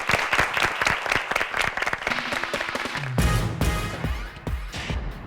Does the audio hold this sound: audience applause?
yes